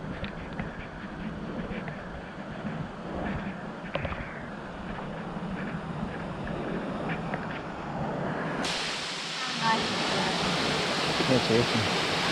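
Steady broadband rush of a main waterfall reached after a scenic walk, a constant roar that swells louder and brighter near the end as it is approached.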